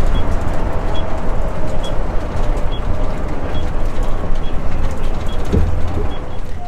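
Inside the cab of a moving motorhome towing on a Blue Ox tow bar, a constant loud road rumble and engine drone fills the space, with faint rattles and no talking.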